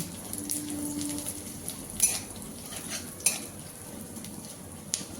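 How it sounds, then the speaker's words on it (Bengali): Whole cumin seeds frying in oil in a pan, a faint steady sizzle broken by several sharp metal spoon clinks and scrapes against the pan, close by with no talking. "এবার একটু গোটা জিরে ভেজে নিচ্ছি"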